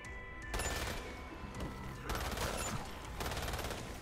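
Rapid bursts of automatic gunfire in the zombie shooter Umbrella Corps, several sustained volleys of crackling shots close by and loud, separated by short lulls where the firing thins out.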